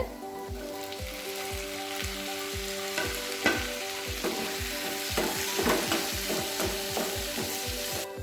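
Onions and tomatoes fry in a pan for onion chutney, a close, continuous sizzle with rhythmic stirring knocks and scrapes from a spoon against the pan throughout, no voices.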